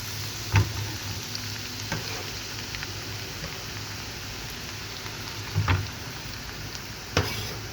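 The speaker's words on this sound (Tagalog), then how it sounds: "Kasi lalagay natin itong piprito kong garlic sa olive oil." Garlic fries in olive oil in a pan with a steady, close crackling sizzle. Several louder clacks of a utensil stirring or knocking against the pan punctuate the sizzle at irregular moments, and no one speaks.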